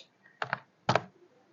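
Two short bursts of computer keyboard typing while HTML code is entered, close and fairly quiet, separated by a brief pause in an otherwise still room.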